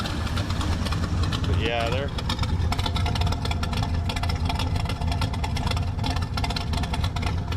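A warmed-up Fox Body Mustang engine idles steadily up close, a loud, rumbling, slightly lumpy drone that carries throughout while someone speaks briefly over it.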